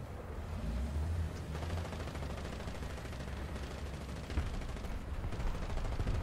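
Anti-aircraft gun firing glowing tracers in an Italian lineup vehicle battle game, a dense continuous rumble of rapid shots that holds steady for the whole stretch with no talk over it.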